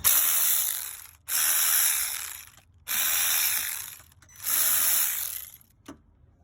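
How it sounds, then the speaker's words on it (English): A ratchet removing starter bolts on a 2017 Hyundai Elantra makes three long, loud bursts of rapid clicking, each lasting over a second and separated by short pauses, followed by a brief final click. "let's get these bolts off."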